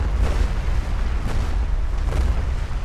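Ship cannons fire aboard a galleon in the ArcheAge video game, giving a dense, rumbling barrage with a few heavier booms standing out every second or so.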